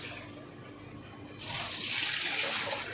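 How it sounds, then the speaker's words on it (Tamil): A steady wash of running water that suddenly swells louder partway through, like water pouring in a strong stream close by, into a cooking pot. "அதுக்கு ஃபஸ்ட்டு தேவையான அளவு தண்ணி சேர்த்துக்கலாம்."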